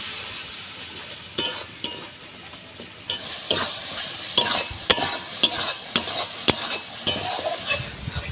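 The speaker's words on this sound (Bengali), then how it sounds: "দিয়ে মশলাটা আবার ভালো করে কষে নেব" A spice paste (masala) frying in a pan with a little water is stirred with a spatula, making a steady soft sizzle under repeated scraping strokes that pick up into a faster rhythm toward the end.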